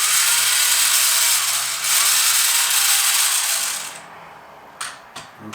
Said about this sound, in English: And then we're just going to use our mini drill.